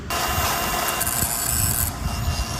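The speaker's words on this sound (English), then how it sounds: "First, I ground it. This is just to remove the paint and clean it up so I can weld it on a clean surface." An angle grinder strips paint off a motorcycle kickstand before welding, giving a continuous loud, harsh grinding roar with a high whine that drops away partway through.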